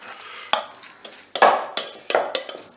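Spoon stirring a cheese filling mixture for a stuffing, heard as a quick run of soft wet scrapes and clicks against the bowl, close and alone.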